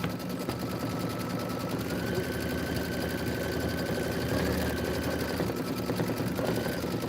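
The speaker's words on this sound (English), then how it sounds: "So we're stitching the quilting detail right now." A sewing machine runs steadily as it stitches a quilting detail, giving a continuous mechanical whir and hum with a faint higher tone, close, unbroken and alone.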